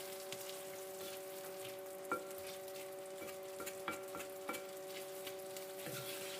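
Garlic and kefta mixture stirred in a pan, soft sizzle under a steady hum, with light scraping taps at irregular intervals, fairly quiet and without talk.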